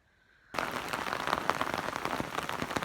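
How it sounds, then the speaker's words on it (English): Rain begins abruptly and then falls steadily on a surface beside a reservoir, a dense, continuous patter with scattered sharper drops, fairly close and with no talk over it. "it's been raining since about 10 o'clock this morning"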